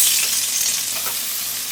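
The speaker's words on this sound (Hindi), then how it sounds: "ऑयल डालेंगे 2 टेबल स्पून, बटर डालेंगे 20 ग्राम, साथ ही अनियन डालेंगे" Onion frying in two tablespoons of oil and twenty grams of butter for a turkey noodle soup, with a dense, steady, close-up sizzle and faint stirring and no speech.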